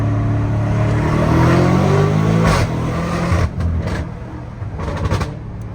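A car engine revs hard and accelerates with a loud, sustained roar, easing off briefly partway through and surging again, close and continuous with no speech.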